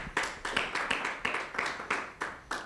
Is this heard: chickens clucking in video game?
no